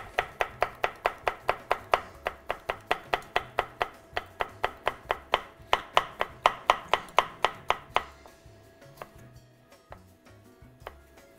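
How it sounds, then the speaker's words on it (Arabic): A knife finely chops vegetables for a Chinese-style noodle dish, sounding as a fast, even run of sharp taps on a board that continues for about eight seconds before thinning into a few scattered knocks. "كمان منقطع بنفس الطريقة كتير ناعم"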